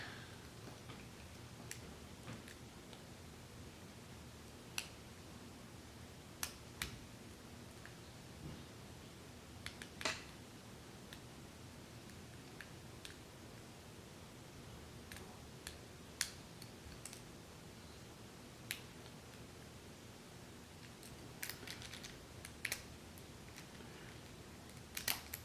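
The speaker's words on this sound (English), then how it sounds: "I'm going to see if I can single pin pick this guy a little quicker than I did the first time." Single pin picking of a pin tumbler lock with a tension wrench and pick, faint sparse metallic ticks and clicks spread irregularly over a quiet background.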